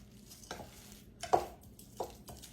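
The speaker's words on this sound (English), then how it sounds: "I'm going to stir it around good" Salmon croquette mixture seasoned with plenty of black pepper being stirred in a bowl: a few soft, scattered scraping and clinking strokes at irregular intervals, quiet and close, with no talking.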